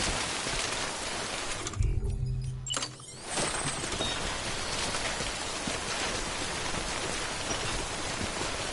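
Timefall rain from the video game Death Stranding pours steadily as dense, loud hiss and patter. A brief muffled lull near the start breaks it before the downpour resumes without letup.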